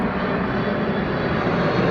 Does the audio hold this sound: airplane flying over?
yes